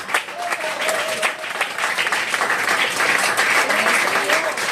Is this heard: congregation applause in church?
yes